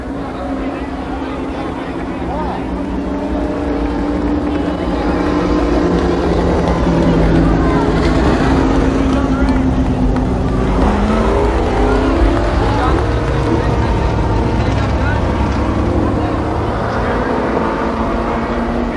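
Late model race cars roar continuously through a heat race at Columbus Motor Speedway in 1993, a loud, sustained engine drone with overlapping cars rising and falling as they pass.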